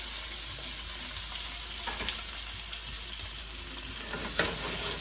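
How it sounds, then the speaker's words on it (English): Steady, loud sizzling of Polish sausage slices frying in hot bacon grease, a continuous crackling hiss with occasional sharper pops, close up. "I love that sizzle, I'm all about it."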